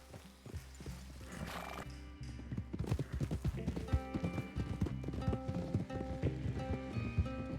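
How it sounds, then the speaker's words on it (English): Working horses whinny and snort over steady clip-clopping hooves in Red Dead Redemption 2, with a busy backdrop of music and ambient game sounds throughout. "Those are some nice working horses."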